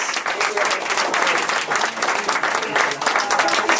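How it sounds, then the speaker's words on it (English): A crowd claps warmly for a team at a closing program and awards ceremony, dense applause with a few cheers, steady throughout with light talk mixed in. "Another round of applause for Team Matan."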